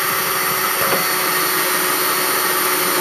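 A power drill boring a 1/4-inch hole at a 45-degree angle through the outer gutter rim of a plastic grow barrel, a steady loud whirring drone running unbroken and close throughout.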